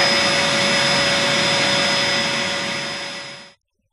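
A Hoover vacuum cleaner roars steadily and loudly with a high whine, then cuts off abruptly near the end, leaving silence.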